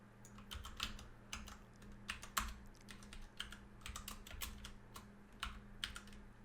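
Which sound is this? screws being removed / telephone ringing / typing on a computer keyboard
typing on a computer keyboard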